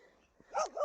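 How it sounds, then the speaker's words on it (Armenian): A stray dog standing in deep snow lets out a single short, close bark with a whiny rising-and-falling edge over a quiet outdoor background. "երբ ինձ տեսնում է, հաչում է"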